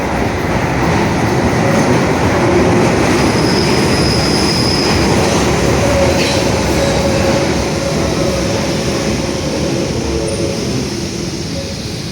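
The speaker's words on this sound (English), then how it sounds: "Central Line train now arriving is for Newbury Park." A London Underground Central Line train pulls into Bank station, a loud, steady rumble of wheels on rails with faint squeals rising over it, heard close on the platform with no talk.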